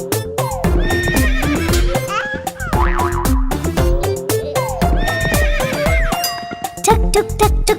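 A cartoon horse-drawn cart rolls along to a bouncy musical track, with a neigh and clip-clop hoofbeats woven into steady, loud, rhythmic music throughout.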